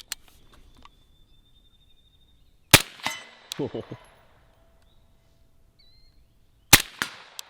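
Shots from a CMMG Resolute AR-15 chambered in 350 Legend during a run-and-gun drill: a few loud, sharp cracks spaced seconds apart, each with a brief ringing tail, between quiet stretches.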